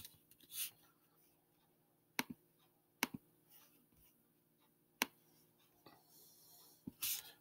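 Computer mouse clicks, a handful of sharp, quiet, separate clicks spaced irregularly, close up against near silence.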